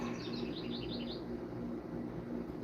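Small birds chirp in quick, high bursts for the first second over a steady outdoor hum, then fall quiet as the hum continues.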